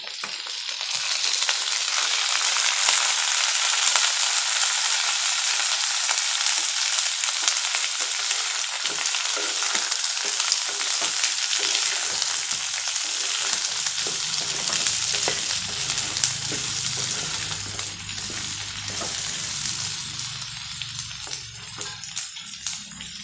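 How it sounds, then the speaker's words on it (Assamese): Already-fried potatoes go into a hot pan for an Assamese potato dish, giving a loud, steady sizzle with stirring scrapes that eases near the end as a low hum emerges. "এতিয়া ইয়াতে ভাজি থোৱা আলুখিনি দি দিম।"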